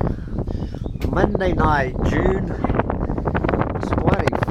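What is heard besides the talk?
wind on a summer evening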